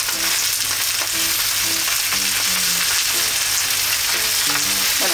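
Cabbage wedges pan-frying with anchovy, a loud dense continuous sizzle and crackle close up, with faint utensil scrapes as it is turned, no speech.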